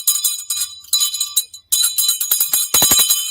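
An antique hand bell rung close and loud in a few quick bursts of bright, ringing clangs with brief pauses between, the last strokes sharper and more percussive.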